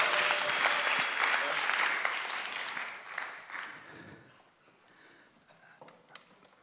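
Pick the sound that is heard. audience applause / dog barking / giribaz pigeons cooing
audience applause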